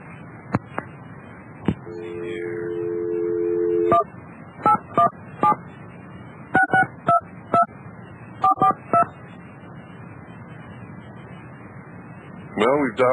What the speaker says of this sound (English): Well, we've dialed the number.